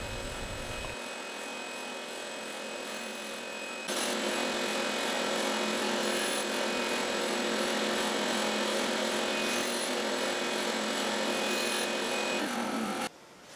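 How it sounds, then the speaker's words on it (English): An Accu-Wedge system cuts a batch of 36 wood wedges, with playback sped up. A loud continuous machine roar with a saw-like whine runs on after a quieter start, surges about a third of the way in and stops abruptly near the end. "I did speed up this video 5 times the actual cutting speed for viewing purposes"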